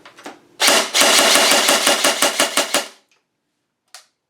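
A G&G Combat Machine 300 airsoft gun running on a 9.6 volt battery fires a loud, close burst of about a dozen evenly spaced shots with a motor whine, followed by silence and one short single shot.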